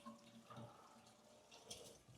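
Hot water runs and splashes while rinsing leftover ice out of a Manitowoc ice machine storage bin, a faint, uneven trickle and spatter nearby with a small knock at the end.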